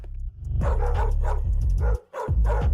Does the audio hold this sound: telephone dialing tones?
no